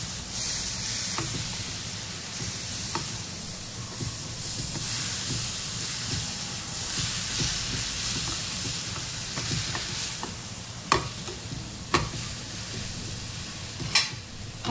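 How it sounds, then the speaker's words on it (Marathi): Cucumber sheera mixture being stirred in a hot pan, with a continuous close sizzle and steamy hiss plus soft scraping and a few sharp clinks of the spoon toward the end. "हलवून घेऊया। सगळं मिक्स करून घ्यायचं आहे आपल्याला।"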